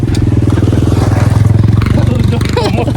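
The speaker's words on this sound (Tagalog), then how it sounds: "Motor daw." A motorcycle engine drones close by throughout on the road to Calatagan, steady and mid-pitched with a rough clatter, while people talk over it.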